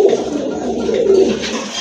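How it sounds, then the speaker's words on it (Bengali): A pair of pigeons coos loudly and up close in one continuous, rolling low call lasting under two seconds. "খুবই চমৎকার কোয়ালিটি ফুল এক জোড়া কবুতর"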